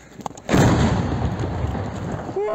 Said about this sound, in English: The house exploded with a powerful explosion.